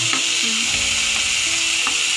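Tomatoes frying in a hot pan, a loud, close, continuous sizzle with stirring scrapes and a few soft clinks of the utensil, no talk.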